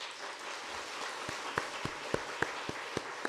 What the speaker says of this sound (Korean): 여러분 뜨거운 박수 부탁합니다